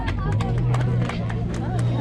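A crowd claps and cheers for a trail race finisher at the Carqueiranne podium, with scattered applause under steady crowd chatter and a voice over a loudspeaker.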